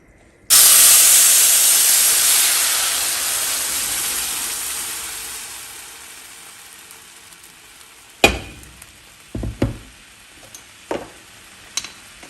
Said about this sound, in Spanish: Vamos a agregar la salsa en una cacerola con un poquito de aceite.